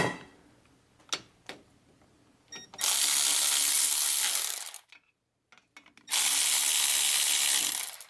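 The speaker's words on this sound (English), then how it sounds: "So now we're gonna start tightening this bolt." A ratchet wrench tightens a bolt on a new hub assembly of a Chevrolet Silverado, giving close, loud bursts of rapid clicking in two long runs separated by a short pause, with a few sharp metallic taps before.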